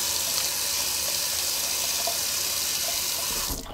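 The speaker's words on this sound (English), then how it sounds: "Nice cold water rinse." Cold water runs steadily from a bathroom tap as a rinse after shaving, a continuous broadband hiss and splash close to the listener that cuts off abruptly near the end.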